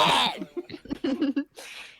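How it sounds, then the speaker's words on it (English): A person clears their throat with a few rough, broken bursts, then a short pause and one softer breathy rasp, close by. "Sorry, I have to clear my throat real quick."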